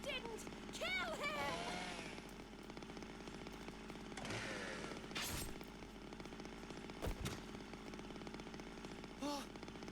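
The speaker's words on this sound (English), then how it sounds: "That's a dangerous chainsaw." A chainsaw in the Zero Time Dilemma video game revs and whines in rising bursts over a steady motor drone, with sharp impacts and a voice speaking over it.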